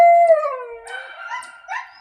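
Several dogs howl and fuss in a fenced-in backyard, a long rising-and-falling howl joined by overlapping yips and whines, fairly close and continuous over two seconds.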